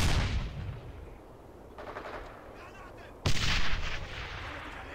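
A heavy blast rolls out in Brothers In Arms: Hell's Highway, with a loud broadband boom that decays slowly, then a second sharp explosion with lingering rumble amid distant battle noise.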